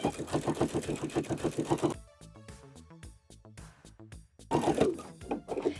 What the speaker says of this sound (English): add a little edge stitch just on the edge of the fly